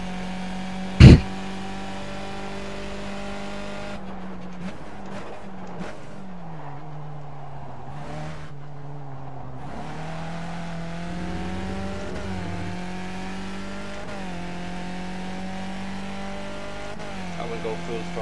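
Race car engine at full throttle in a Formula-style racing video game, a steady droning tone shifting pitch through gear changes, with a sharp knock near the start and quiet talk over it.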